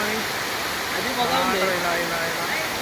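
Baabijhari waterfall in Kerameri roars as a dense, continuous rush of falling water, and a person talks briefly over it.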